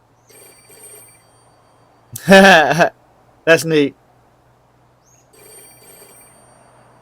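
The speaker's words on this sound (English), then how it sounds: "I just have to dial 205 and it should start ringing the phone outside" An outdoor payphone in a yard rings with a bell, dialed from a house PBX line; the bell is distant and faint, with two rings separated by people talking.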